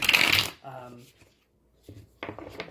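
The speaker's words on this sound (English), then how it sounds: "I'm shuffling your cards right now." Tarot cards are shuffled close up in a brief riffling burst, then a short pause and a few more soft shuffles, with someone speaking over parts of it.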